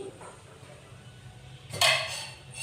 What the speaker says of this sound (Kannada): ಮೊದಲೇದಾಗಿ ನಾನಿಲ್ಲಿ ಒಂದು ಪಾತ್ರೆನ ಕಾಯ್ಲಿಕ್ಕೆ ಇಟ್ಕೊಂಡಿದ್ದೀನಿ